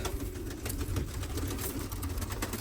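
Pigeons in a loft coo softly, low rounded calls repeating under a faint hiss of background noise, quiet and fairly close, with no talking.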